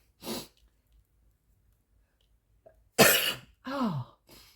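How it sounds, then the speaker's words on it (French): A single sharp, loud sneeze bursts out after a short quiet breath and a pause, then a voiced exhale follows, all close to the microphone in a quiet room. "Je vais éternuer."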